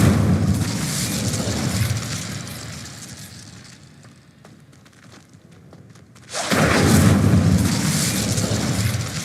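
Incendio fire spell effect in Hogwarts Legacy, a loud rushing roar of flame that fades into a quieter stretch, then bursts back in abruptly and holds at full strength.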